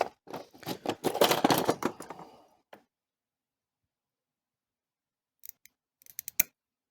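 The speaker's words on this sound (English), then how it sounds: "I'm gonna cut a fresh solder." Fresh medium solder, likely sterling silver, snipped for jewelry prong work: a dense burst of crisp metallic snips at the start, then silence and a few sparse sharp clicks near the end.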